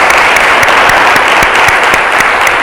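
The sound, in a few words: congregation clapping to welcome the Lord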